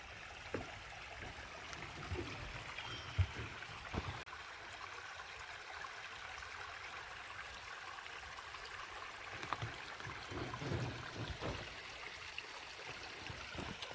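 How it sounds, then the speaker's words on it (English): A small waterfall feeding a stream under a bridge in a park trickles and burbles faintly and continuously, heard from a short distance with occasional light handling bumps and no talk. "with a nice little waterfall feature."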